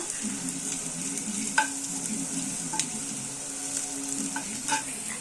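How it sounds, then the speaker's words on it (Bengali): Onion fries lightly in a pan with a soft, steady sizzle, broken by occasional sharp clinks and scrapes of a spatula stirring it, close by and without speech. "আমি এখন পেঁয়াজটা একটু ভেজে নিচ্ছি, সামান্য, খুব বেশি না।"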